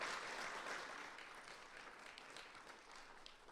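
An audience at a panel discussion applauds the panelists, a dense wash of clapping that starts strong and then slowly fades, heard from a distance and fairly quiet.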